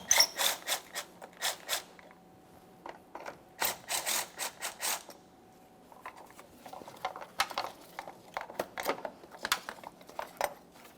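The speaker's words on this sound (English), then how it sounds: "So let's go ahead and loosen the nut just enough that we can start removing the J-hook from either side." A ratchet loosening the 10mm nut on the battery hold-down J-hook of a 2014-2018 Mazda 3, heard as rapid, crisp clicking bursts in repeated runs with short pauses, close and alone.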